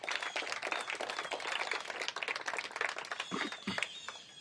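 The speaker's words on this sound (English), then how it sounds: "Let's give them a round of applause for the service they provide in the city." A crowd at a city government event claps in a steady burst of applause, dense and close, with a few louder individual claps near the end.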